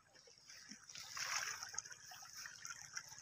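Clean water flowing out in a rural village setting, a faint trickling and splashing stream that swells briefly then settles into a quiet, steady gurgle.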